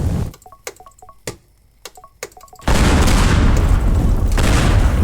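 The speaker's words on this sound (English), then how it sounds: "TNT, biggest material to blow." TNT blows apart a huge mansion in the destruction game Teardown: sharp crackling blasts and scattered clicks, then a sudden loud roaring rumble of collapsing debris that fills the rest of the clip.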